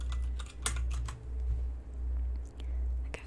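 Someone types on a computer keyboard in quick soft bursts of clicks over a steady low hum. There are short pauses between the bursts.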